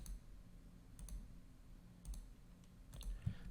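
Soft, quiet computer mouse clicks while vectors are selected in Aspire CNC router design software, a few light taps spaced about a second apart against a low room hum.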